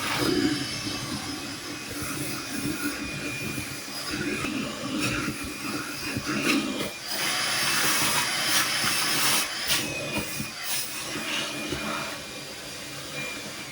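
Garbage disposal switched on and running with a hose in the sink, giving a steady, loud grinding whir mixed with rushing water that holds for the whole stretch, with a brief surge midway.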